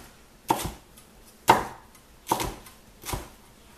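A knife slices vegetables for stir fry on a cutting board, four crisp chopping knocks spaced roughly a second apart, close and clear with no talk.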